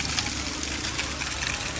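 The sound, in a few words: flowing water at a cold clear spring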